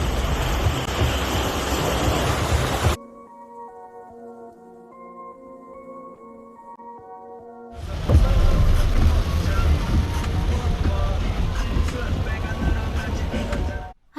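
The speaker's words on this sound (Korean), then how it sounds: "파도 쳐." Ocean waves crashing, a loud broad roar of surf for about three seconds, then a stretch of quiet tonal music, then the surging wash returning strongly until the end.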